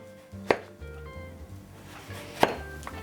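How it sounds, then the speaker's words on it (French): A knife cuts peeled cucumber into thin strips on a board, giving two crisp, distinct chops about two seconds apart, close up with quiet handling sounds between. "On coupe des petites lamelles comme ça"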